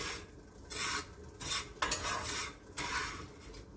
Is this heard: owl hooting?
no